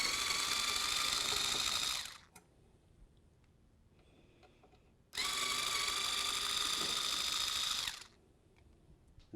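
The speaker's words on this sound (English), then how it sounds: "So we're going to remove those 2 silver screws." A power tool drives out two silver screws holding an induction cooktop in place during the disassembly of an SKS 48-inch dual fuel oven, giving two sustained whirring bursts of about two and three seconds separated by a quiet pause.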